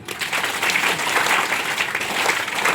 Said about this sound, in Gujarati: તો આપણે આચાર્ય સાહેબ માટે 3 તાળી પાડીશું.